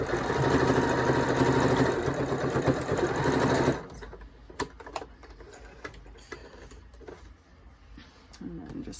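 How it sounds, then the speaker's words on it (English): A sewing machine runs close and steady for a few seconds stitching pleats across a fabric face mask, then stops, leaving quiet ticks and fabric handling sounds. "Again, 3/8 of an inch and stitching across."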